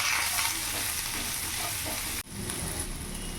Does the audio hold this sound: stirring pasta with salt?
yes